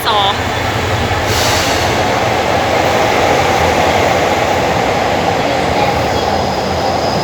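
A Thai rapid train, number 136 running from Ubon Ratchathani to Bangkok Apiwat, rumbles loudly and steadily with a dense, continuous roar of wheels and carriage noise, heard close throughout.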